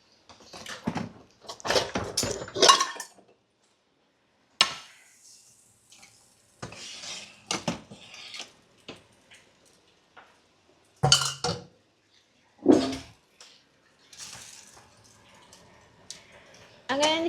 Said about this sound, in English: I'm going to continue mixing this.